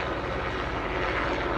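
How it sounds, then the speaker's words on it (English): Helicopter engine and rotor noise fills the air steadily, a broad continuous drone overhead with no talk over it. "Oh boy, I hear planes coming. Where's that? It's helicopters."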